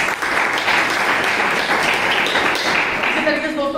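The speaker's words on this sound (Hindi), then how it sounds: "जोरदार ताली होनी चाहिए।" Audience applause at a business plan presentation, a loud, steady wash of many hands clapping together, sustained and close, tapering slightly near the end.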